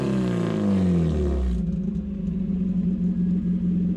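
An unmuffled race car engine runs at low RPM, a loud, steady, throaty idle rumble that holds continuously without pause.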